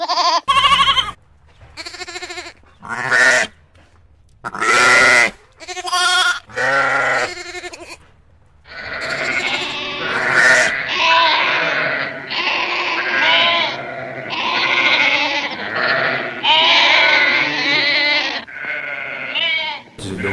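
Sheep (ewes) bleat loudly in repeated separate calls, and then several animals call over one another in a dense, overlapping chorus of bleating.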